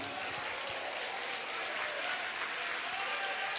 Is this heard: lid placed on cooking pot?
no